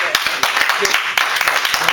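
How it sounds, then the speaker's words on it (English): A small group claps at a city council meeting, brief scattered hand claps with a voice talking over them. "So give yourself a round of applause."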